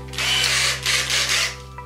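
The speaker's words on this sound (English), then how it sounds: "this electric screwdriver slash drill" An electric screwdriver-drill whirs in short bursts, its motor revving up and easing off a few times at close range.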